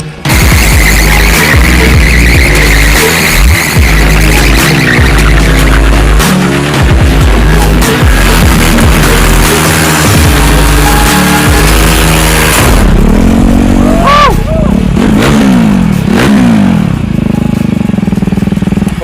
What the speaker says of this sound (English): What means we still can burn tires, right?